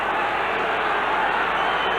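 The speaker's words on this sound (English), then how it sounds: "The crowd calling for Queensland to get back to 5." Rugby league State of Origin crowd, 1989 Game 2, a broad steady roar of thousands of spectators calling out across the stadium, dense and continuous throughout with no clear single voices.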